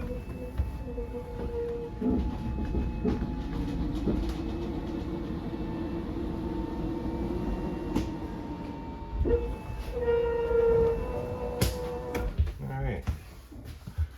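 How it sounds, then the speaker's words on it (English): A hydraulic motor hums steadily under load as it extends the slide-outs on a 2023 Forest River Wildwood 42FLDL RV inside a shop, a sustained mechanical drone with a few clicks and clunks and a louder stretch near the end. "You'd kind of hear the load on the hydraulic motor."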